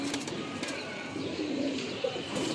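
Giribaz colouring pigeons coo softly and repeatedly nearby, low murmuring calls over a steady background hum with a few faint rustles.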